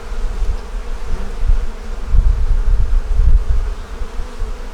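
Honey bees buzz at a hive, a dense, continuous low hum that swells slightly in the middle, close and fairly loud with no talk.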